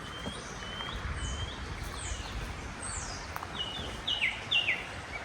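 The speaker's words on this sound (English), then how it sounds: "when we woke up in the morning, you listen to the birds." Several birds chirp and whistle in short, high morning calls in New Zealand, some distant and some closer, over a soft outdoor background.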